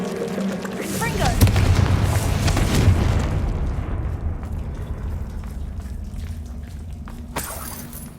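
A Confringo spell explodes in the video game Hogwarts Legacy, a sharp boom with shattering debris early on, then a rumbling decay that fades over several seconds, with a voice over the top.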